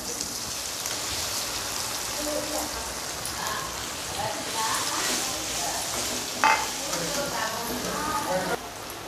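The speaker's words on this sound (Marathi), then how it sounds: "आता ही बटाटी घालून परतून घ्यायचं." Potatoes sautéing in a pan with asafoetida and turmeric, a steady close sizzle with occasional stirring scrapes and a brief clink, continuous throughout.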